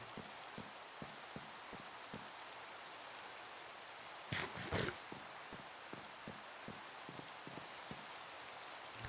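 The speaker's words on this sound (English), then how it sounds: "Now it frickin' rains." Steady rain in the video game Sky Factory 3, a soft continuous patter of raindrops with faint periodic ticks and a brief louder splash burst midway, no voices.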